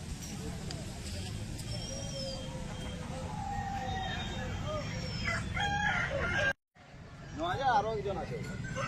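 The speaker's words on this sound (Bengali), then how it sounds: "প্রচুর মুরগি এসছে, এই খুব বড় বড় কোয়ালিটির বড় বড় মুরগি এসছে" At a poultry market full of large desi and Bangalore chickens, roosters crow repeatedly among clucking birds. People talk close by, a brief dropout cuts in near the end, and then a loud crow rises again.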